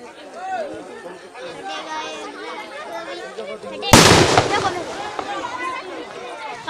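A firecracker at an outdoor fireworks show in West Bengal goes off with one sudden loud blast partway through, followed by crackling, while a crowd chatters and talks throughout.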